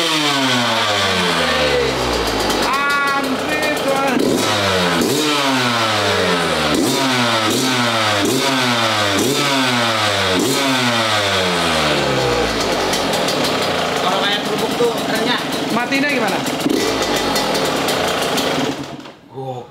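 A trail motorcycle engine revs hard on the throttle, its pitch climbing and falling in repeated loud surges, close by and sustained until it cuts off at the end.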